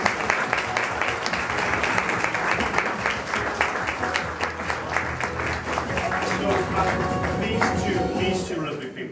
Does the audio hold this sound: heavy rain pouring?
no